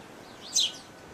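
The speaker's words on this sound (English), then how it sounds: "I have seen goldfinches, chaffinches, great tits, and some birds I can't identify from a distance." A small garden bird, such as a goldfinch, chaffinch or great tit, gives one short, sharp chirp midway through an otherwise quiet outdoor garden setting.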